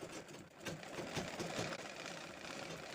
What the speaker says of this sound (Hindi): अब स्लीव्स को नीचे वाले हिस्से में देखो इस तरह से हम सिलाई लगा देंगे।